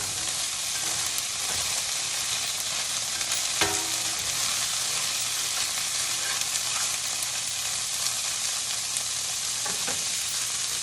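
Butter sizzles and crackles steadily in a hot cast iron skillet, a constant frying hiss with a few faint clinks, no voices.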